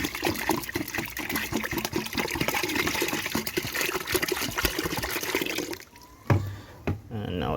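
Water pours steadily from bottles onto chicken feed set out for fermenting, a continuous gushing splash that stops near the end, followed by a couple of brief knocks.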